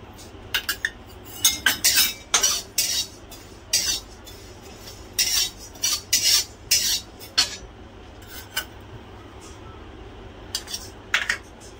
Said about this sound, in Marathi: आता आपल्याला भाजायची आहे बडीशेप.